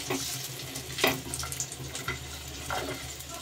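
Cashews, almonds and raisins fry in oil in a pan, a steady close hiss with soft crackles and a few brief bursts throughout.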